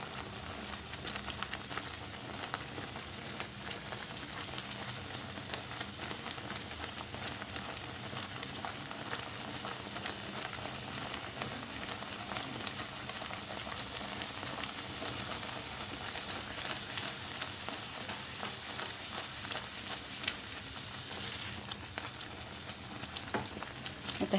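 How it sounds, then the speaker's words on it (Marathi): Apple jam with lemon juice cooks down in a pan while being stirred constantly, a steady soft sizzle and bubbling hiss that runs evenly throughout without pause. "आता हे छान घट्ट होईपर्यंत आपल्याला परतून घ्यायचं. सारखं ढवळत राहायचं."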